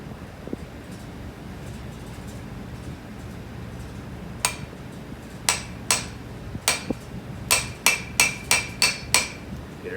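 A hammer drives a wheel bearing race into a 2WD Ford Ranger front hub with a socket, about a dozen sharp metallic strikes that speed into a quick rhythm toward the end over a quiet garage background.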